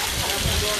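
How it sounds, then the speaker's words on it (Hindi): Heavy rain falls steadily as a dense, unbroken wash of noise during a thundery shower at a cricket ground, loud and continuous for under a second. "सख्त बारिश."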